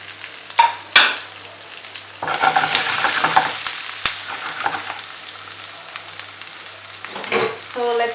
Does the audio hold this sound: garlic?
yes